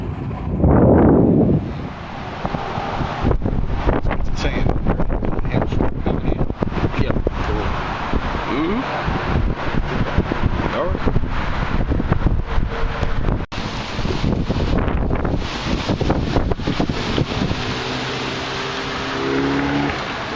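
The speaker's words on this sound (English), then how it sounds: "It's going to get a bit windy from the outflow winds." Strong gusty outflow wind ahead of a supercell thunderstorm in Stockbridge, Georgia, roaring and buffeting the microphone continuously for about twenty seconds, loud and close, with a voice briefly heard.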